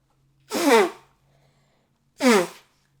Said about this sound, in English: Sorry about my sneezing.